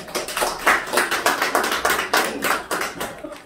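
Dense, rhythmic clapping from the audience at a ceramic painting exhibition opening in a gallery, moderately close, steady bursts for a few seconds before fading out.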